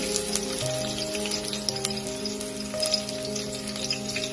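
Crushed garlic sizzling in a few tablespoons of hot oil with mustard seeds for a village-style drumstick-leaf sambar tempering, a steady close crackle with scattered pops and no talking.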